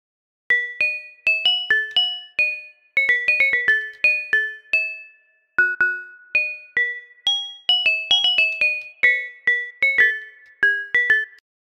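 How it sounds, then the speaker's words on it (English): Bright FM-synthesized bell tones play a plinking melody, each note struck crisply with a glassy metallic ring and quick decay, in a steady, lively rhythm. "how to make this cool bell sound"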